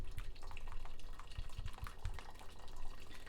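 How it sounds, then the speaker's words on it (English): Watery pepper liquid is strained through a kitchen strainer, giving close, soft trickling and dripping with small splashes and a few low bumps over a short stretch, with no speech. "Keep straining it, and all the stuff will stay in there."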